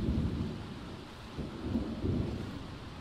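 Steady rain pours down with low rumbling thunder rolling through, loud and continuous, with a few heavier swells of rumble and no voices.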